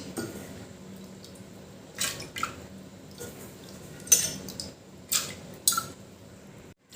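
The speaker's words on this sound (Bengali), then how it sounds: "এবার একটা প্রেশার কুকারে ডালগুলো দিয়ে দিচ্ছি" Washed matar dal lentils tipped into a pressure cooker, a few soft clinks and wet spills of grains and water against metal, quiet and close, in short scattered bursts.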